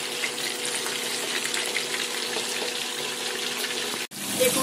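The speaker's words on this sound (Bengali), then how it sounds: "দেখুন কোলমাছগুলো ভাজা হচ্ছে" Koi fish coated in turmeric and salt fry in hot oil, giving a steady close sizzling hiss that cuts off briefly near the end before resuming.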